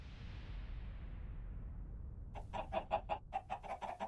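A flock of video-game chickens forming an army clucks in rapid, repeated bursts that start partway through, after a steady low hiss.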